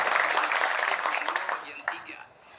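Audience applause at a book launch on Marhaenism in Jakarta: dense clapping from a seated crowd, loud at first and then thinning out and fading, with a voice briefly heard near the end.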